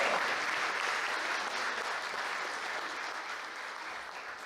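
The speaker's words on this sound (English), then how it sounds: "You should give yourselves a round of applause for that." A large audience applauds steadily at a political speech in Alabama, a dense even wash of clapping that fades slightly toward the end, with no voices above it.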